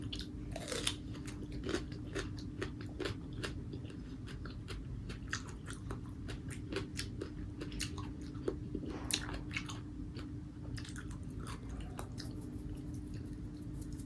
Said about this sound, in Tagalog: Masarap nga siya. Itong pipino.